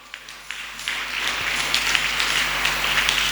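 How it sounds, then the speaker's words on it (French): A church congregation breaks into applause that swells from scattered claps into a dense, steady roar of clapping hands. "On acclame encore."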